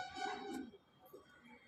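Desi domestic pigeons kept at a home loft in Howrah give a couple of low, rolling coos, close and fairly soft, then a quieter stretch with faint bird calls.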